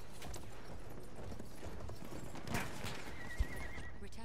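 A horse in the Battlefield 1 video game whinnies loudly while hooves clip-clop at a steady galloping rhythm, with a sharp thump near the end and no speech.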